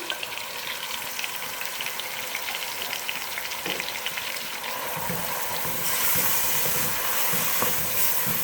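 Beef biryani ingredients sizzle and hiss in hot oil as they are stirred and fried toward light golden brown, a steady crackling fry that swells louder partway through, with occasional scraping of the stirring.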